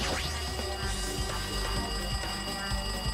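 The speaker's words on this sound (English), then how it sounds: "It looks like that phone is ringing." A telephone rings inside the video game Danganronpa 2, a steady, continuous electronic trill that persists for the whole moment with no voices over it.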